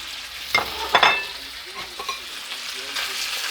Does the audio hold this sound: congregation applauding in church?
no